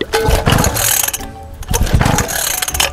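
A trail motorbike that has sat unused is kicked over repeatedly and fails to catch, giving loud choppy mechanical bursts and rattles with brief gaps between attempts.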